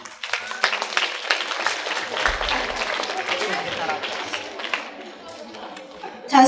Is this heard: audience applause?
yes